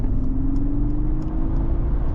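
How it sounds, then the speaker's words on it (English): A 2025 Mercedes G580 electric SUV accelerates hard from 65 to 130 on a windy day, with a rising synthetic hum and whine over loud, steady road and wind rumble heard from inside the cabin, with no talking. "Let's try the acceleration from 65 to 130."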